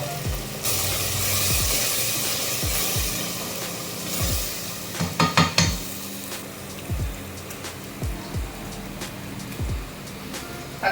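Spice paste for Hyderabadi mutton curry hits hot oil in a pan and sets off a sudden broad hissing sizzle. It carries on with scattered low knocks and stirring thumps. No one speaks.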